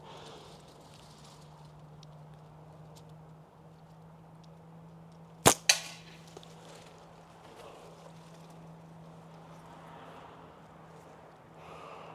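A slingshot with kangaroo-leather pouches fired at a can: one sharp snap of the release followed by a quick second crack, standing out once against a low steady background hum.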